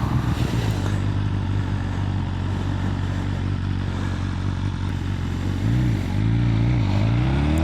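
A motorcycle fitted with a full Akrapovic exhaust rides steadily, a continuous low engine drone with a brief rise and fall in pitch near the end, loud and close.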